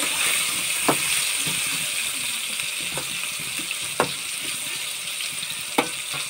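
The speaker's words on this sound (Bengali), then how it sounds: "তো আপাতত আলুটা ভাজা হোক" Potatoes frying in a pan, a steady hiss of hot oil throughout with occasional sharp clinks or stirring knocks, close and continuous without talk.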